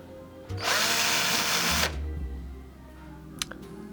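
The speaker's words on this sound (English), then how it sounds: "I'd better try to fix these too, now with the point of a drill" A power drill bores into cured epoxy in one loud burst of about one and a half seconds, the motor then winding down, followed by a couple of small clicks close by.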